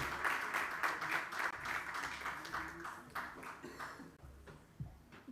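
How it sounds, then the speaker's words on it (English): Audience applause at a youth conference session on climate, a crowd clapping loudly and steadily for several seconds before thinning out into a few scattered claps. "So please welcome them up to the stage with a huge round of applause."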